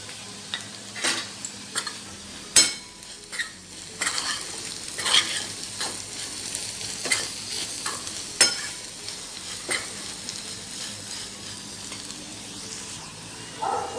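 Spices are stirred into potato pickle with a spoon, giving a run of sharp scraping and clicking strokes at an irregular pace over a soft background hiss, with no talking.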